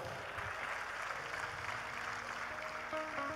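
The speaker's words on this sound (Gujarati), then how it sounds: "તાળીઓથી વધાવો" A live audience at a folk storytelling programme in Surat breaks into applause, a dense, even wash of many hands clapping that holds steady throughout, fairly faint and distant-sounding.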